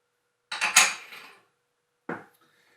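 Flour, salt and yeast are stirred in a bowl for no-knead bread. A short flurry of clinking scrapes is followed by a single quick knock of the utensil against the bowl, close and clear with no talk.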